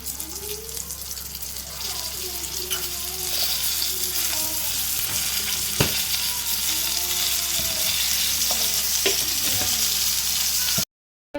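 Bitter gourd frying in a pan with a pinch of turmeric, a loud continuous sizzle with faint voices underneath and a few scraping stirs, cutting off abruptly near the end.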